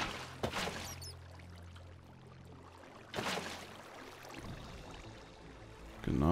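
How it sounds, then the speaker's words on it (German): Flowing water from an infinite water source in Minecraft, with a couple of louder splashy pours over a quiet, steady trickling background. "Ich habe mir kurz eine unendliche Wassersource hingebaut,"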